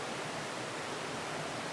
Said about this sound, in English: Oh, that's a pretty good waterfall.